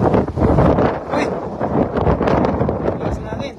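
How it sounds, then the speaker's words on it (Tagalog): Strong wind buffets the microphone aboard a fishing boat at sea during rain, a loud continuous roar, with people talking under it. "Lakas ng hangin."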